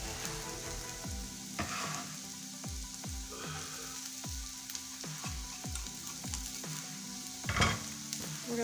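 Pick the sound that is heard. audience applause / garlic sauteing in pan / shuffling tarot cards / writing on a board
garlic sauteing in pan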